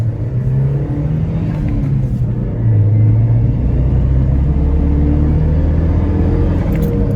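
A Mazdaspeed Protege with a boost gauge fitted, heard from inside as it drives and accelerates, its steady engine rumble rising and holding through the run, with no voices.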